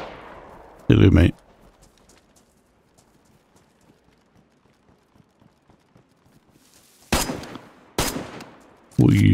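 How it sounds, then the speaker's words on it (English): Gunfire in the video game DayZ: a few loud, sharp shot bursts, one early and a cluster of three near the end, separated by a long stretch of faint background ambience. "What are you shooting at?"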